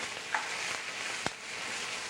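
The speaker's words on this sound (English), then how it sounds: "The galette is seasoned and cooked in butter." A galette seasoned and seared in butter in a non-stick skillet over moderately low heat gives off a steady, soft sizzle with a couple of faint pops, and no one speaks.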